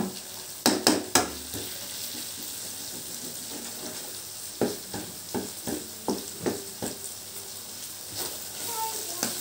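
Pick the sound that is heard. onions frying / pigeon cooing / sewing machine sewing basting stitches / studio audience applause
onions frying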